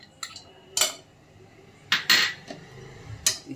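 A pan is set down on a gas stove, giving a few sharp metallic clanks and clinks spaced irregularly across a few seconds, otherwise quiet.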